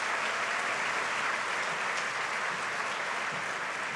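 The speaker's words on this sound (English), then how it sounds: "Give her a big round of applause." Applause from a choir concert audience at an elementary honor choir event, a steady dense patter of clapping from a large crowd lasting the full stretch, heard at a moderate distance with no talk.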